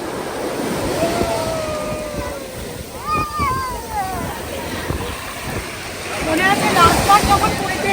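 Sea waves roll onto the Blue Flag beach at Puri, a rushing surf wash mixed with gusty wind noise on the microphone, while children's and adults' voices and shouts carry over the water sound.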